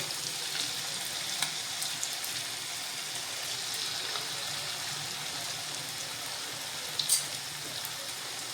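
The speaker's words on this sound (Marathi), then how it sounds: "मोठ्या गॅसवरच मंचुरियन हे तळून घ्यायचे चांगले एक दोन मिनटं होईपर्यंत" Cabbage Manchurian balls deep-fry in hot oil over a high flame, giving a steady, even sizzle throughout with a brief sharper pop near the end.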